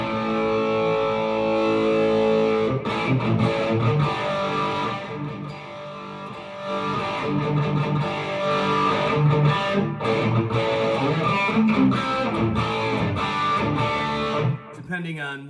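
Electric guitar played through a PedalPCB Paragon Mini, a King of Tone overdrive clone, giving steady driven chords and riffs at full level, with a brief dip in the middle and a quick break near the end.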